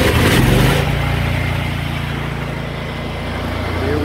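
Small gas engine on a pressure washer starting up without choke, a loud close rumble that surges at first and then settles into a steady idle.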